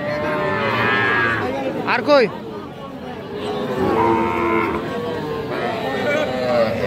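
Bull calves moo loudly and repeatedly nearby at a cattle market, one long drawn-out bellow standing out, while people chatter in the background.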